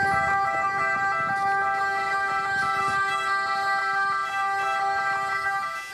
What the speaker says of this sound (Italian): Le sirene spiegate hanno rotto il silenzio davanti alla chiesa parrocchiale di Dosson di Casier